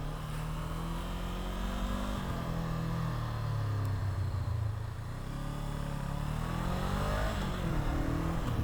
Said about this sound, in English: the engine is a parallel twin liquid cooled 500cc or 498